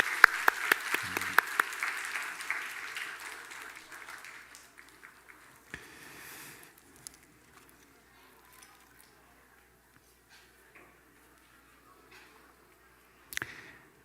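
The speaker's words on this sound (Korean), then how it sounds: "박수로 우리 환영합시다" Church congregation clapping to welcome a child after an infant baptism, a burst of applause that fades within a few seconds into a quiet room with a faint voice, then a short sharp noise near the end.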